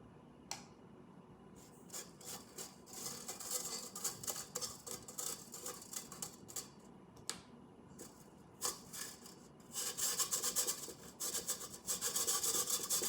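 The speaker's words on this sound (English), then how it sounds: "I'm gonna push it through the sieve." Lumpy allulose is pushed and rubbed through a sieve by hand, producing close, gritty scraping strokes in an irregular rhythm that grow busier and louder toward the end.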